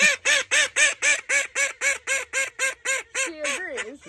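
Crested ducks quack in a steady, loud series of about fourteen evenly spaced calls, ending in a few quicker, wavering quacks.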